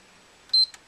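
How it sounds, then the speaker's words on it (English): A single short electronic beep from a PlayStation 3 console rings out clearly in near silence, followed by a faint brief click. "in about 5 seconds we're going to hear one beep"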